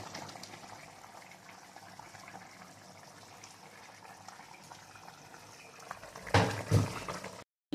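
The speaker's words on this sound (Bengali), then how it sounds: "মাংসটা আমার ফুটতে শুরু করেছে।" Country chicken meat simmering in a pot on the stove, a steady soft bubbling boil that carries on evenly, then a few louder clatters near the end.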